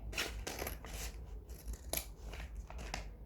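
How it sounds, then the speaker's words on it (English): Scissors snip open a small blind bag package, several crisp metallic cuts in irregular rhythm with plastic crinkling between them, close and fairly quiet, with no talking. "we got the scissors. I'm just gonna open it carefully."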